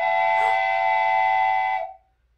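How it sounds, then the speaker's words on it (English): A train whistle sounds in one steady, tonal blast lasting nearly two seconds, then cuts off to silence. "What is that sound? It's a train!"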